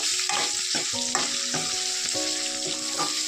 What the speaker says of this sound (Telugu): ఇప్పుడు ఉల్లిపాయలు బాగా మగ్గాలి.